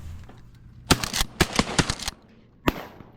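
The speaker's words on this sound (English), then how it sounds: "Shoot those 3." Shotguns fire at pigeons flying over a hunt: a rapid volley of about six loud, sharp blasts within roughly a second and a half, then a pause and one more close shot.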